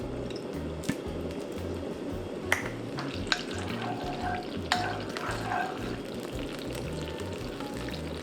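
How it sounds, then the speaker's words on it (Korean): Sesame oil, water and oligosaccharide syrup bubble in a pan for a squid side dish, making a steady close sizzle with a low bubbling underneath and a few sharp utensil taps. "참기름 1스푼, 물 1스푼 해서 끓여줍니다."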